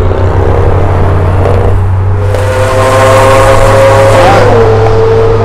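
Cars revving up to race on a downtown Miami street at night, a loud steady engine drone with rising whine and a shift in pitch, building louder midway and holding strong to the end.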